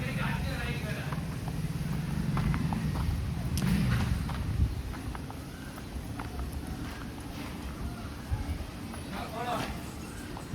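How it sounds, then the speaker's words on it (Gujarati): A mare's hooves clip-clop in scattered, uneven steps outdoors, partly masked by ongoing talk and a low engine-like hum. "ઘોડી આવી ગઈ"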